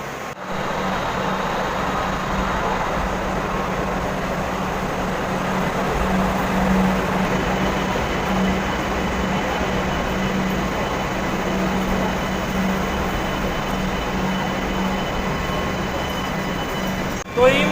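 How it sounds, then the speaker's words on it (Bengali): A Kolkata Orange Line metro train rumbles steadily into New Garia station for a long stretch, with a low hum and a faint squeal of wheels. "ঘুরে আবার চলে এসছে আমাদের এই ফোর স্টেশন নিউ গড়িয়াতে"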